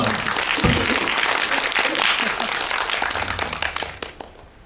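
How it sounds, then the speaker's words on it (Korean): A cinema audience at a CGV Yongsan post-screening talk breaks into applause, with a full crowd clapping that mixes with voices and gradually thins out toward the end. "박수 한번."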